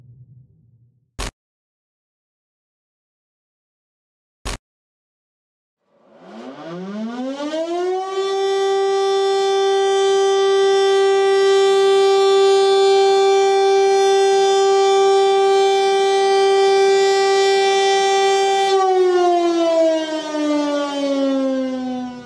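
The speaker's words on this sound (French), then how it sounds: "Cette sirène que vous entendez là, c'est une alarme qui se déclenche tous les premiers mercredis du mois en France." A French civil defense siren, tested the first Wednesday of each month, winds up from low to a loud, sustained wail, holds for several seconds, then starts to wind down; two sharp clicks precede it.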